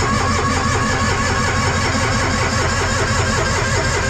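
An engine is cranked with throttle and choke applied, giving a steady, loud, rhythmic churning of the starter that keeps turning over without catching.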